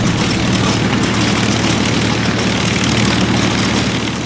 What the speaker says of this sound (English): supported by aircraft flying from carriers